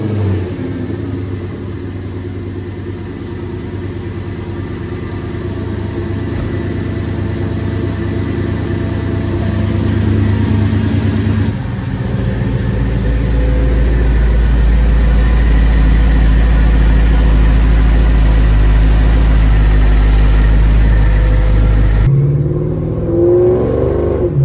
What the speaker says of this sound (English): we hear some E55 exhaust, no supercharger whine whatsoever